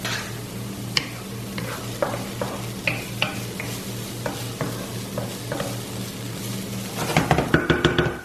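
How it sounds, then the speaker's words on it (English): Minced garlic tossed into a hot pan while making ravioli primavera: a steady low hum and a few light clinks of stirring, then a sudden bright, crackling burst of sizzling near the end. "what we'll do is basically toss in the garlic as well"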